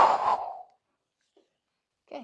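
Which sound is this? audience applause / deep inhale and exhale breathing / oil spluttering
deep inhale and exhale breathing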